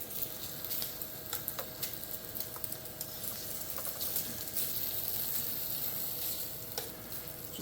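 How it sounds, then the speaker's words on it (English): Bacon fries in a pan while being stirred around, giving a steady close sizzle and crackle with soft scraping, and no voices. "get this bacon moving around a little bit."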